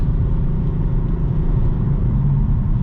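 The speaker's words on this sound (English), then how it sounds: "this engine feels very, it feels like a very race car type of noises" A 2018 BMW M4 Convertible DCT Competition engine accelerates on the road, a loud, steady low rumble heard from inside the car, with no voices.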